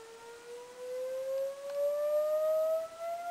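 A steady electronic tone from an MC1496 AM modulator, picked up on a radio receiver, glides slowly and smoothly upward in pitch over a soft background hiss.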